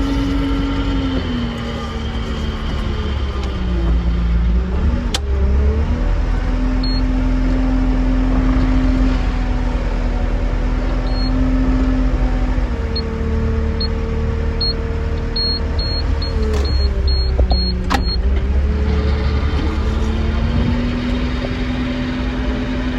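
A large wood chipper works through a pile of wood, its engine droning steadily with pitch dips and surges as pieces are fed in, plus occasional sharp knocks.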